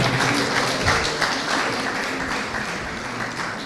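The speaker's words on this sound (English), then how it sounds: "Another round of applause for the university choir" Audience applause for a university choir at the opening ceremony of a moot court competition, a dense continuous patter of many hands clapping, steady and moderately loud, with no voices over it.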